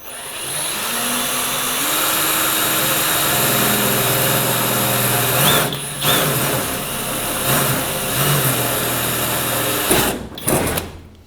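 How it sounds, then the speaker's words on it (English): An electric drill with a 5/32 bit whines steadily while boring a hole during an engine swap PCM mounting job, the motor pitch shifting and briefly stopping twice between bursts. "so we drill the hole through"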